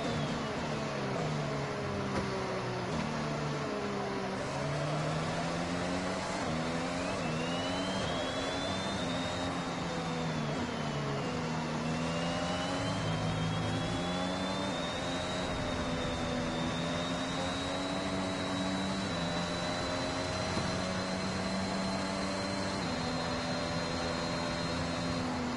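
Cold car engine in a racing video game, a steady whining drone with pitch climbing and falling as it revs and slows for braking, continuous and fairly loud with no talk.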